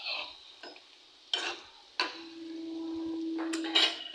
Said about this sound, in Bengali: করে লালচে কালার করে ভেজে নিচ্ছি সব মিষ্টিগুলো